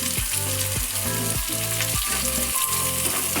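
Cauliflower fries with ginger and green chilli in a hot pan, a loud, steady sizzle that goes on throughout, with faint stirring under it and no talk.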